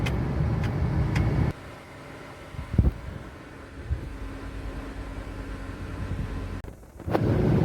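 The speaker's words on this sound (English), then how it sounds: "Yeah, it's pretty loud. The fan is like a hurricane." A one-owner LLY Duramax truck with 484,236 miles drives down a neighborhood street, heard with the windows down as its fan clutch roars in a loud, steady broadband rush that dips briefly midway before surging again.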